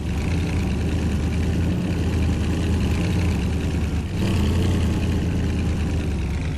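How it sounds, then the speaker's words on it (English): A car engine in Farming Simulator 19 on the Port Limbo map runs steadily, then dips briefly as it downshifts gears before revving back up, a continuous mid-low drone with no talking. "You just heard downshift."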